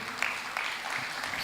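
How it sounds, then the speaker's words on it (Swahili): A conference audience claps in a steady, fairly faint patter of many hands throughout, with a few sharper claps standing out. "Tumpigie makofi mzuri."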